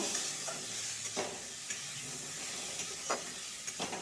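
Green mango chutney with salt and turmeric fries in a pan, giving a steady close sizzle broken by a few soft stirring scrapes, with no voices.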